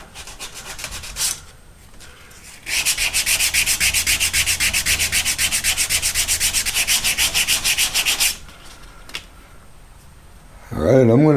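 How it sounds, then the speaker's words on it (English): Folded sandpaper rubbing the edge of a steel-clad exterior door, a quick rhythmic scratching of fast back-and-forth strokes lasting several seconds, close and loud, with short pauses before and after. "I'm going to keep sanding."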